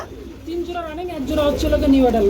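Pigeons coo repeatedly at a Bangladeshi pigeon market, their rising and falling calls close and clear over a low background of crowd noise.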